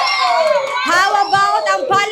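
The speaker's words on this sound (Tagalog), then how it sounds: "Tingnan natin kung malakas ang palakpakan kay bangus." Studio audience at a Filipino noontime variety show cheers and shouts in a loud, lively burst, with excited voices rising over the crowd noise.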